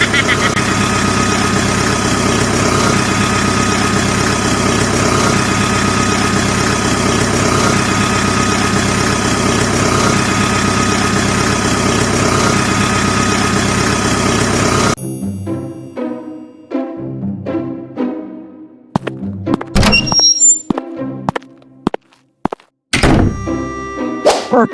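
An old abandoned truck's engine runs at a steady, loud idle for about fifteen seconds. It then cuts out, leaving scattered knocks and thumps, a few of them sharp and loud.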